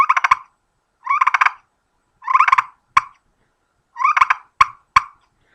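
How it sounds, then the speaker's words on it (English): Short bursts of rolling, fluttering turkey purrs from a friction call, several rapid trills separated by pauses, with a few sharp single clucks between them. "Now you want to purr, you do the same exact thing, you just twist the call a little bit."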